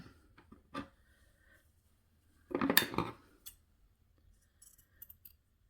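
A couple of quiet, crisp snips of dull scissors cutting scrap paper, one short cut followed by a longer crunchy one, in an otherwise quiet room.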